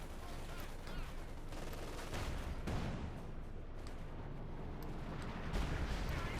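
Heavy artillery fire from a B4 howitzer in Company of Heroes 2, a dense sustained barrage of booming blasts and rumbling battle noise that stays loud throughout with no voices.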